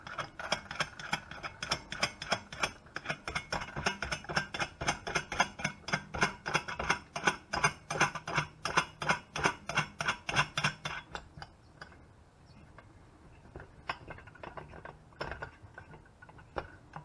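Clutch compression tool being loosened on a Polaris RZR Turbo clutch: a fast, steady ratcheting clatter of pawl clicks for about eleven seconds, then slower scattered clicks and small metallic handling sounds, close and fairly loud with no talking.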